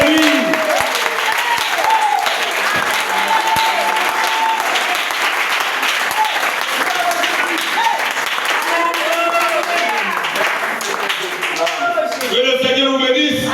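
A church congregation applauds loudly and without a break, a dense wash of clapping hands filling the room, while a voice speaks over it.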